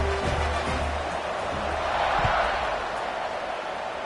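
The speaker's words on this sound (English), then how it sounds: "this crowd is buzzing after that last score" Stadium crowd at a college football video game, South Carolina against Florida, buzzing steadily with a continuous broadband roar after a score, faint thumps and a brief swell near the middle, with no clear speech.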